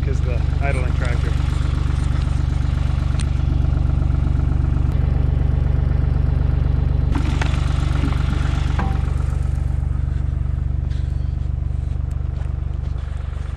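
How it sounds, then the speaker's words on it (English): An idling tractor drones steadily and close in a snowy forest during winter logging in a snowstorm, its low, even rumble unchanged for the whole stretch with a few faint clanks on top. "You probably couldn't hear any of that because the idling tractor."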